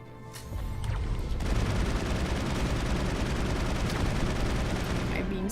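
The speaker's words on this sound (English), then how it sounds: "I'm being sniped." Gunfire during a firefight in the video game Mass Effect, a steady roar of rapid shots and blasts that keeps going loudly, with a few sharper cracks standing out early on.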